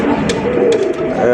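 A pair of Arabian Coca pigeons coo softly and repeatedly, close by, over a steady murmur that may include voices.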